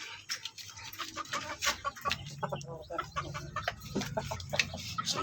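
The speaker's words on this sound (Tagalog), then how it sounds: "1 year old yung ating Siamo Asil na to na si Red." A one-year-old Siamo Asil rooster named Red, weighing about four kilos, gives soft, scattered clucks and low throaty calls close by, with faint background noise and no talk.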